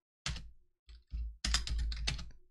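Several bursts of clicks and thumps from a computer keyboard as a short command is typed, close and clear, with brief pauses between groups of keystrokes.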